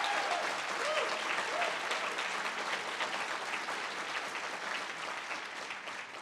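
At a university State of the Campus address, a large audience applauds the Basic Needs Center staff and volunteers with a continuous, even wash of clapping that is heard from a distance and softens slightly toward the end.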